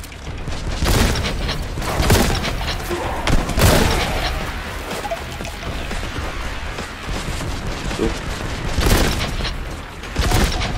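Heavy gunfire and booming blasts from the Warhammer 40K Boltgun shooter game, loud repeated shots with mechanical clanks over a dense, continuous action din.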